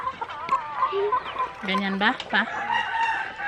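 Farmyard chickens cluck and a rooster crows loudly nearby while being fed, with a person talking over the birds.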